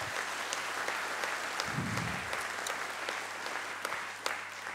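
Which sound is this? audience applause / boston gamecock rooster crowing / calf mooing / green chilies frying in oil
audience applause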